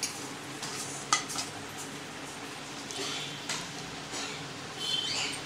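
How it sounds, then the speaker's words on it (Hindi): A potato chivda mixture for fasting gets stirred in a pan, with a dry rustling scrape, occasional light clinks of a spoon against metal, and a faint sizzle beneath, no voices. "अब मैं इसमें अच्छे से मिक्स करूंगी और नमक डालूंगी"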